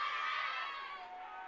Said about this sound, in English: Crowd is good, a lot of support.